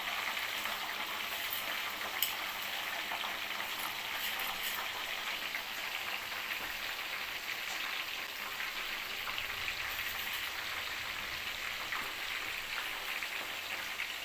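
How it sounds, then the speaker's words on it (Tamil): Dried gooseberry, aloe vera and small shallots simmering in hair oil in a pan, a steady, faint, hissing frying crackle that runs unbroken and alone throughout. "நெல்லிக்காய் வத்தல், கத்தாழை, சின்ன வெங்காயம் இது 3 வந்து கொஞ்சம் நேரம் வேகணுங்க."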